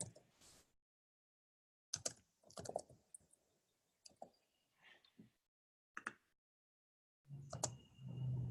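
Computer keyboard typing comes in short, faint bursts of clicks separated by silent gaps, sounding close and quiet.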